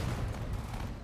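Rumbling battle noise from Sudden Strike 4 during the Soviet campaign's Battle of Moscow in 1941 as tanks are destroyed, a muffled, continuous low roar of distant gunfire and explosions.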